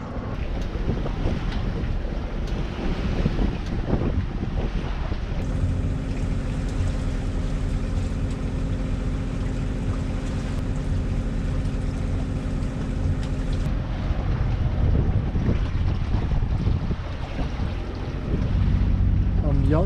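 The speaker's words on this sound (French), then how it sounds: "Alors on avance toujours au moteur" A sailboat motoring under engine power at sea, its steady engine drone running throughout, with wind buffeting the microphone and water noise all around.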